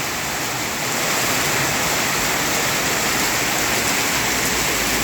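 Heavy rain pours down in a dense, constant roaring hiss, loud and unbroken throughout, with no voices.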